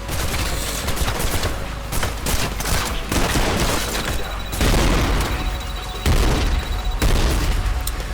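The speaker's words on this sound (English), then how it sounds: "I'm starting to get the feeling they have unlimited grenades" Dense, continuous gunfire and repeated booming grenade blasts in the shooter game Trepang2, loud and sustained for the whole stretch, with a few louder bursts landing near the middle and end.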